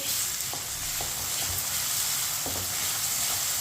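Crushed ginger and garlic sizzle in hot oil in a pan, a steady close hiss and crackle with occasional soft stirring scrapes, no talking.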